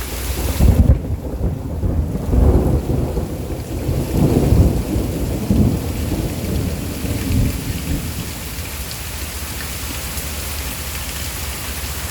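Heavy rain pours during a thunderstorm in Pittsburg, Kansas, as close thunder rolls and booms in long rumbling waves, with wind buffeting the microphone and no talk.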